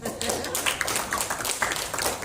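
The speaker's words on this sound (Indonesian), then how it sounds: "Tepuk tangan buat Mas Solo." Audience applause at a health workshop, a steady patter of clapping from a crowd that carries through the whole stretch at moderate level.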